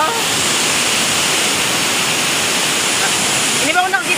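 Waterfall at Birds Paradise in Singapore, a steady broadband roar of falling water that fills the whole clip, with a voice briefly rising over it near the end.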